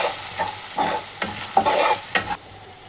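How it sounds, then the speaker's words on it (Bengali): Turmeric, cumin, coriander and Kashmiri chili powder fry in oil in a pan, a close, steady sizzle broken by several scraping stirs at a regular pace. "আবারও ভালো করে মশলাটা আমি কষিয়ে নেব।"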